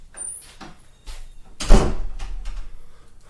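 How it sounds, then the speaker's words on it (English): A household door is pushed shut, light handling noises leading into a solid thud of the closing door at close range. "I'm going to make sure my door is closed first."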